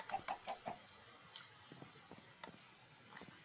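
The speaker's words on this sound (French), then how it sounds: "Et il y a une poule pour faire du poulet rôti." A hen clucks in a snowy video game map: several quick soft clucks at the start, then sparser faint pecking sounds over a quiet background.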